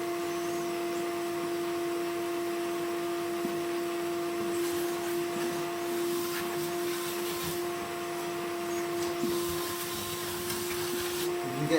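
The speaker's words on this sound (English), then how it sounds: "So I'm just going to give the top bit a hoover as well, make it a bit nicer." Vacuum cleaner hoovering the top of a Franco Belge wood burner, a steady close motor drone with a constant whine and shifting suction and rubbing noise as the nozzle moves, running throughout.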